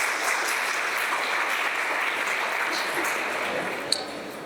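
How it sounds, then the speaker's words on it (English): Steady, dense applause from a large crowd at a school valedictory ceremony, a continuous roar of clapping held at even loudness throughout with no break. "can we have a huge round of applause?"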